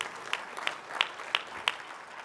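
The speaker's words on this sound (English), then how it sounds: "Oh, sure, you can applaud that." A handful of people clap at a keynote speech during a BBB annual meeting. The claps are sparse and evenly spaced, about five of them, faint and set against a quiet room.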